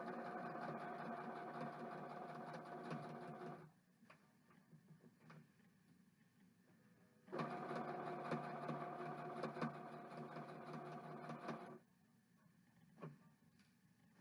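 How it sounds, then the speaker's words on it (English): A sewing machine backstitches in two steady bursts of rapid stitching, pausing in between with faint clicks, fairly quiet and close. "So I literally have to use a sewing machine just to backstitch."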